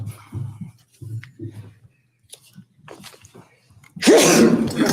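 Someone sneezes loudly in a courtroom, a sudden forceful burst after scattered quiet murmurs, shuffling and soft speech.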